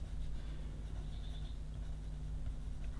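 A pencil shades on paper while darkening an eyelid fold on a drawn adult face, a faint, steady scratching heard close up with no talk.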